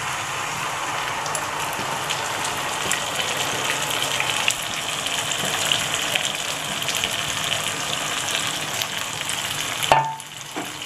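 Elephant foot yam frying with onion, garlic and green chilli in a pan, a dense, steady crackling sizzle like rain, close and even, with a sharp clatter near the end as the sound drops off.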